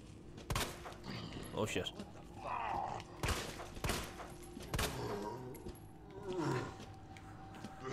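Gunfire in the Resident Evil 2 Remake, several sharp shots spaced irregularly among creature roars and growls, with someone talking and swearing over the action.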